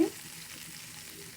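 Chicken pieces fry in a pan, a soft, low, steady sizzle with a brief louder onset, heard faintly and alone.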